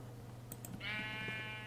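A spawned sheep mob in Minecraft gives a single clear bleat, a wavering, drawn-out call that rises out of a low steady hum and holds to the end, preceded by a couple of brief clicks.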